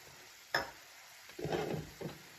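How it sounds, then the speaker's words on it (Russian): Wine poured into a hot pan of shrimp seasoned with Adyghe salt, giving a quiet sharp splash followed by a burst of sizzling and bubbling that fades, then another short sizzle. "я добавляю вино"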